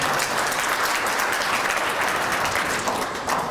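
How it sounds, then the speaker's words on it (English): Steady, dense applause from an audience at a Western Canada Summer Games partnership announcement with Noralta Lodge, filling the room evenly throughout without voices. "You're going to clap for that."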